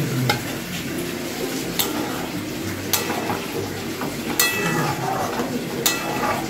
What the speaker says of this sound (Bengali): ভাজা হয়ে গেছে, এবার এতে জল ঢেলে দিচ্ছি।